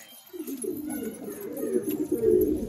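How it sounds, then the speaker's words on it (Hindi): Saharanpuri pigeon, a slender female held in the hand, cooing in a steady run of soft, low throaty murmurs close by, continuous through the clip with no talking. "ये देखिए भाई सारनपुरी कबूतरी है कैच में है"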